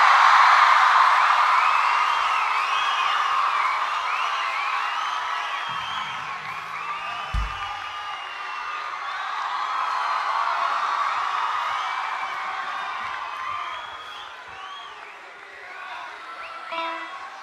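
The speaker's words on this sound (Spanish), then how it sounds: "Un fuerte aplauso, un cariñoso aplauso a una gran amiga de salón" An audience cheers and applauds for a singer, a long wash of crowd noise with shrill whoops and screams that swells and fades over nearly twenty seconds.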